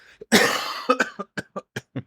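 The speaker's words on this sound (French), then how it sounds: "Il tousse" One long, harsh cough followed by a series of six short, evenly spaced coughs, close and loud, with no talking.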